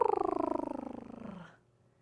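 A drawn-out meow-like vocal with a pulsing, purr-like flutter that glides downward in pitch and fades out after about a second and a half, clear and close; it may be a voice imitating a cat.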